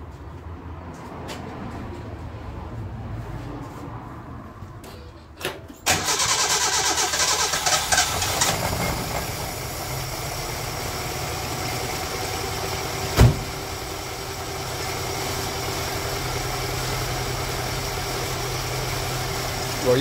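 A 1968 Datsun 1000 shed find, leaking fuel, cranks and fires up, then settles into a steady, close mid-pitched idle with a brief bump partway through.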